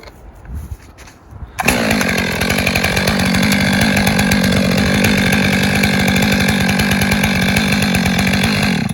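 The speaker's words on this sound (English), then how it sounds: "Let's do the notch." Chainsaw cutting a felling notch in a tree: a quiet idle, then a loud sustained roar close by that holds steady as the chain bites into the wood.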